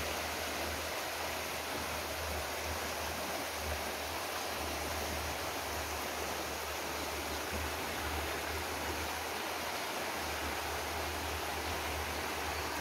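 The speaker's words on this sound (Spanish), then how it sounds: "Ahora el caminito para el río y llegamos al río." A river flows steadily and continuously, a broad even rush of water up close with no voices or other sounds over it.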